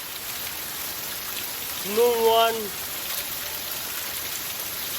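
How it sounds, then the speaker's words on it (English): Rain falling on a rainy day, heard as a steady, even hiss throughout. A brief voiced sound rises over it in the middle, and there is no clear talk. "In my area, rain has fallen. This is a rainy day."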